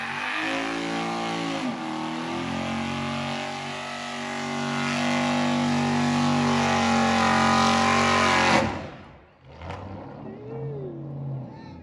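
A car doing a burnout, engine revving hard and holding a high sustained roar as the tires spin, then cutting off abruptly near the end with a brief lower rumble afterward; no talking.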